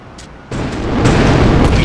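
A rocket launcher fires in the GTA2 video game, a sudden loud boom that swells into a heavy, rumbling explosion lasting over a second, alone without talk.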